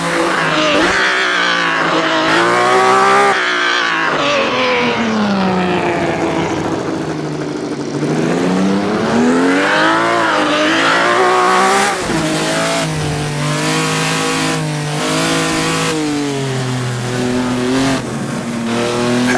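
Race car in Assetto Corsa winding down the laser-scanned Targa Florio road toward the hairpins, engine revving loud and near throughout, pitch climbing and dropping through gear changes and corners, with brief tire noise.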